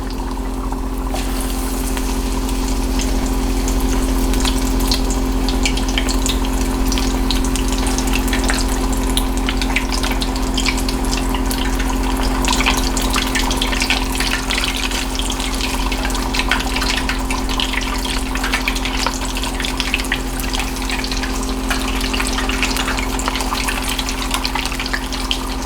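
Big pieces of cheese curds dropped into hot oil, a continuous dense bubbling sizzle with a steady low hum underneath, loud and close throughout with no talking.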